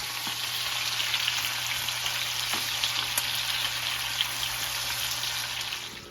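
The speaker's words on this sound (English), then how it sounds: "Our tomato sauce and our chicken broth are boiling now" Tomato sauce and chicken broth boil in a pot, giving a steady, close, hissing bubble that stays constant throughout with no voices.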